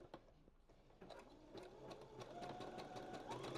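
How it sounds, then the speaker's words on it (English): A home sewing machine runs a backstitch: a close, quiet, rapid mechanical chatter of needle strokes that gradually speeds up and grows louder over a few seconds. "my machine has this button where, like, I can make it backstitch on its own"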